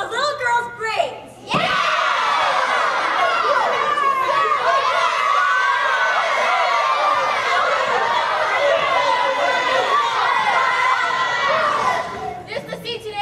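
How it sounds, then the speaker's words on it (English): A large crowd of student actors on stage in a school play, many voices shouting, chattering and arguing at once in a loud, sustained hubbub, with a brief pause before and a tapering off at the end. "Neighbors reported hearing shouting and loud discussion"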